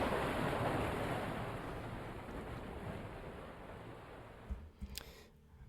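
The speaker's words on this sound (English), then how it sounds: "Ending it with the sound of the waves of an ocean, or maybe a very big lake." Ocean waves, or surf on a very big lake, wash in a steady broadband rush that closes out a music track, fading slightly before a few brief knocks near the end.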